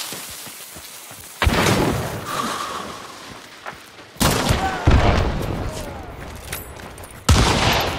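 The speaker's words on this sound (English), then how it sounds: "Third grenade." Grenade blasts and gunfire in the shooter game Hunt: Showdown, several heavy booming explosions with crackling shots in between, loud and close.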